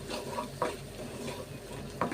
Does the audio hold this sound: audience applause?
no